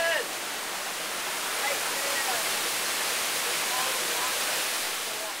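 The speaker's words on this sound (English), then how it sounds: "We have gone on a journey and found a waterfall." A Costa Rican waterfall near a lodge gives a steady, full-bodied roar of rushing water, constant and close, with faint high chirps flickering over it.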